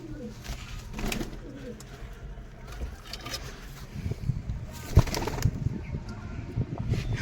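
Pigeons at a rooftop loft with a perching frame coo softly while bursts of wing flapping rise louder near the middle and end, the birds moving about close by.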